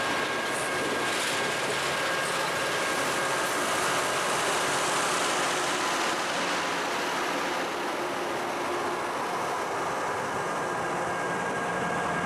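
A LORAM rail grinder train is deadheading along track on the Grand Rapids subdivision, making a loud, sustained rumble of rolling wheels and engine with a faint high tonal whine, steady and close.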